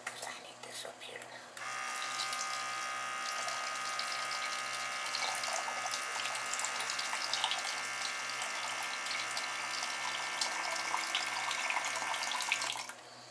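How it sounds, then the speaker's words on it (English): Tap water pours steadily into a pan in a kitchen sink, a continuous hissing splash lasting about eleven seconds before it stops. "I'm going to put a little bit of water in this."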